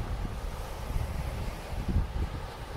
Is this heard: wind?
yes